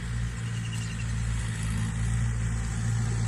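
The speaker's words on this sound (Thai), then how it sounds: "นี่ค่ะรถเกรดกำลังถอยมาแล้วกำลังขับมาแล้วค่ะ" A road grader's diesel engine drones steadily and loudly as it reverses and drives, a constant low rumble with no breaks.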